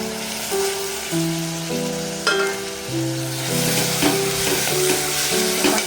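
Green chillies and peas sauté in a pan with a continuous crackling sizzle. The spatula knocks a few times, and soft music plays underneath.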